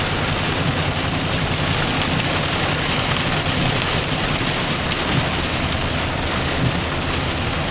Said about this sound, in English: So the rain is definitely loud.